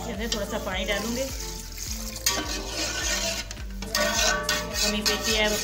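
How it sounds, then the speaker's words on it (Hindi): Water is added to a partridge curry in a pot, with splashing and pouring sounds mixed with repeated stirring strokes and clinks from the pot. "अब इसके अंदर थोड़ा सा पानी डालूंगी,"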